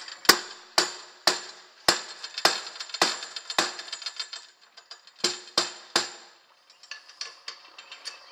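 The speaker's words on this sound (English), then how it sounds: "get our bolt on there, tap in place" A bolt being tapped into place on a Sky Max frame during assembly, heard as a series of sharp, ringing metallic taps in irregular bursts, close and fairly loud, with no talking.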